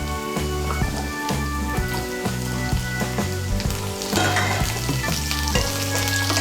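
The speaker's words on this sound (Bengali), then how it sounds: "আলুটাকে আমি তেলের সঙ্গে মিশিয়ে নিয়েছি" Thinly sliced potatoes frying in oil with browned onions, a dense crackling sizzle like rain on a surface, steady and close with a brief surge of spitting partway through, no one speaking.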